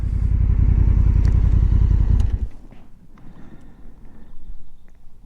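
A Honda NT1100 motorcycle engine idles loud and close with a steady throbbing pulse, then is switched off, cutting to near silence with faint ambient background.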